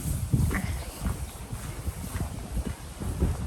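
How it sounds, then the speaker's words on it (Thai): Cool evening wind blowing outdoors at a farm pen for giant Thai buffalo, a steady rushing broadband noise with gusty low rumbles buffeting the microphone and faint scattered background sounds, no speech. "อากาศเพิ่งจะเย็น เพิ่งจะได้ลมเย็นตอนนี้นี่เอง"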